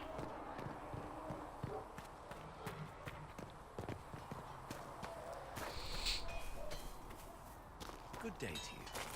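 Horse hooves in Dragon Age: Inquisition clip-clop in a steady trotting rhythm, mixed with footsteps and background noise, fairly quiet and at a moderate distance.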